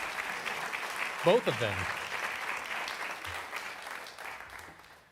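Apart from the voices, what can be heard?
audience applause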